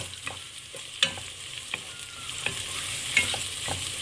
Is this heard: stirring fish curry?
yes